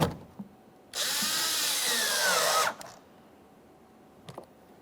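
A power tool drives an anchor bolt into the rear interior door of a 2014-2019 Toyota Corolla: one sustained whirring burst of about two seconds, close and loud, followed by a few faint clicks.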